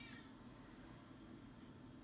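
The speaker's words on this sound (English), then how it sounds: "Can you hear my cat meowing?" A pet cat meows faintly in the background of a quiet indoor room, with low steady household noise and no talking.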